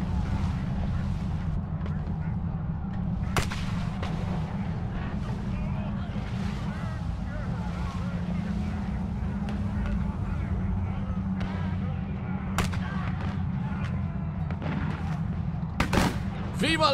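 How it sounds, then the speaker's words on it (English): Grand mortars fire in battle in Van Helsing II, a steady low rumbling roar with several sharp, distant booms cracking through it. "they're using the grand mortars!"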